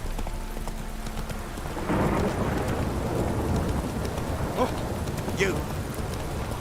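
Hooves of Geralt's horse Roach clip-clop steadily in The Witcher 3, a rhythmic trotting under a rainy, stormy ambience, with a brief spoken line over it.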